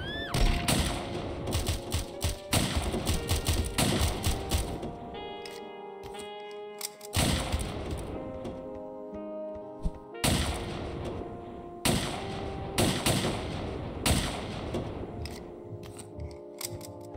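Gunfire in the Of Murder and Moonshine video game: sharp, loud bursts of shots in irregular clusters, some rapid and stuttering, separated by brief quieter gaps with ringing tonal game sounds.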